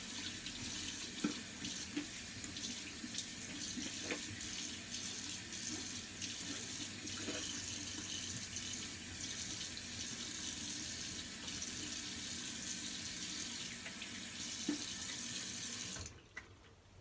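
A bathroom tap runs steadily as alum is rinsed off after a shave, a constant soft hiss of water into the sink for about sixteen seconds before it shuts off.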